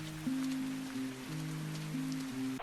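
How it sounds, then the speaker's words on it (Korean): Rain falls in a Korean film scene as a steady, soft hiss beneath held musical tones. "첫 장면부터 비가 내리고 있습니다"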